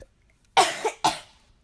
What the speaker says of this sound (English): Now it's time for a cough in real life as I'm recording this.